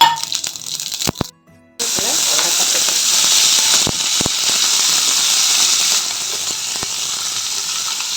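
Mustard seeds splutter in hot oil while tempering for rasam. A loud, continuous sizzle is studded with sharp crackling pops, broken by a brief near-silent gap early on before the frying hiss resumes.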